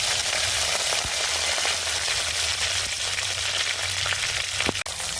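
Curry leaves and fenugreek seeds sizzle in hot oil in a clay pot while preparing fish curry, a loud, steady, close frying hiss with faint crackles and a stir near the end.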